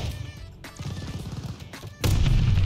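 Claymore mine detonating in the video game Vanguard, a sudden loud blast near the end following a stretch of rapid gunfire-like crackling, close and punchy.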